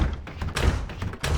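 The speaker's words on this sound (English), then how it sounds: "I like that when you try and open a door, it makes a noise." A door in the CS:GO map Xenos being pushed and shutting, a few dull thuds and knocks spaced irregularly, close and moderately loud with no speech.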